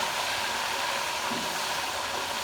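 Tomatoes frying in a pan with whole spices such as coriander seed while making achari chana pulao, giving a steady close sizzle and hiss that holds level throughout.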